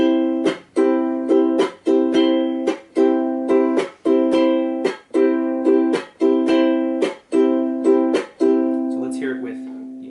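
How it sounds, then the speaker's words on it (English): Ukulele plays an island strum pattern, with muted percussive chucks on the second and third down strums, repeating steadily and evenly, close and loud. "down, up, but we're just chucking on the 2nd and the 3rd down strum."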